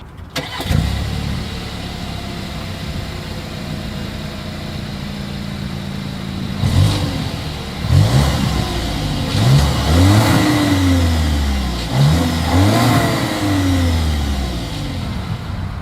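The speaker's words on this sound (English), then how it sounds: "As always, here is that exhaust clip." An engine cranks and catches, idles for a few seconds, then gets several sharp revs that rise and fall through the exhaust. Loud and close, no voices.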